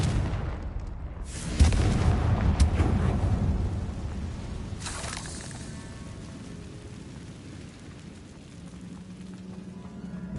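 Incendio and Confringo spell blasts in Hogwarts Legacy, set in catacombs: a heavy booming impact with rumbling low roar, a second sharp blast a few seconds later, then a long fading rumble.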